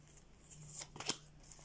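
Tarot cards are drawn and shuffled close by, with a few quiet papery riffles and flicks clustered together on a hushed background.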